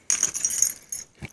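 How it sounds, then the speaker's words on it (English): A set of everyday-carry keys jangling close up, a bright metallic rattle lasting most of a second followed by a brief second clink, with no speech. "Keys."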